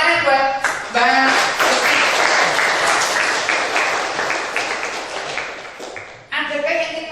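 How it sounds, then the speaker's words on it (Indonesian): A class in an Indonesian teacher-training lesson applauds a student: dense, steady clapping from many hands fills most of the stretch, with brief talk at the start and end. "Tepuk tangan buat Mbak."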